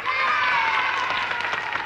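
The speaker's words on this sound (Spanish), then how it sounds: "¡Aplausos para esta señorita!" A studio crowd claps and cheers for a young woman competing on a variety show, producing a full, continuous roar of applause with scattered shouts, loud from start to finish.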